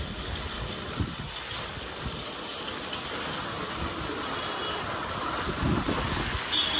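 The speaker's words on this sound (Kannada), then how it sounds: "ಮಳೆ ನೋಡ್ರಿ ಕಂಟಿನ್ಯೂಸ್ ಆಗಿ ಈ ರೀತಿ ಮಳೆ ಆಗತೈತಿ" Steady, dense monsoon rain roars continuously in the background at a railway station, with a few louder splashes and gusts, and no one speaking.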